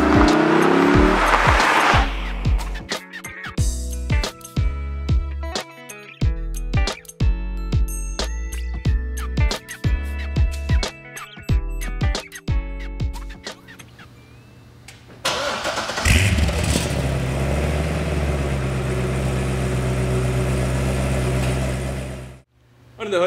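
A stock 2009 Chevrolet Corvette Z06 with its 7-liter LS7 V8 starts and is revved in sharp, repeated bursts up close, then settles into a rougher, steadier roar before cutting off.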